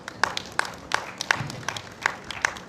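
A sermon audience gives sparse, half-hearted clapping, with a handful of distinct, widely spaced claps over a quiet room.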